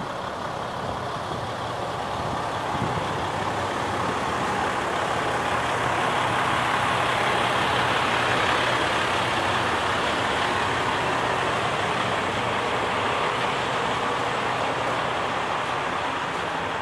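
A black truck passing on the road, a steady broadband engine and tire roar that swells gently and holds for many seconds at moderate level, with no voices.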